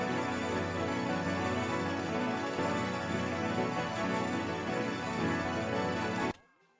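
Plain piano keys laid down with an electro preset for a beat, playing without effects as a sustained, full chordal wash that holds steady and then cuts off abruptly near the end.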